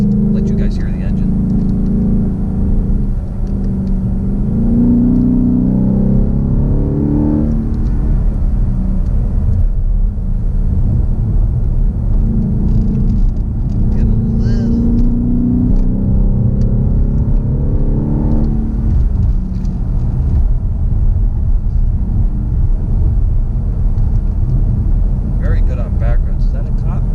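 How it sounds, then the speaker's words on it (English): A 2018 Ford Mustang GT engine rumbles and revs through the whole stretch on back roads, loud and close, with someone talking over it at times. "Let you guys hear the engine."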